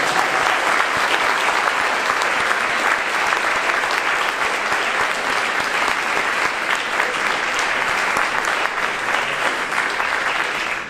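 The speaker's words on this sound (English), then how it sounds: "I predict this man will get an incredible round of applause as he comes into my office." Sustained, loud applause from a theater audience at a mentalist's stage show, a dense continuous clapping that holds steady for about ten seconds before cutting off.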